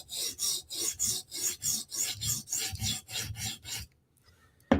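A Spyderco knife blade being resharpened, with about eleven steady rhythmic rasping strokes on a sharpening surface, close and even, then a short pause and a faint clink at the end.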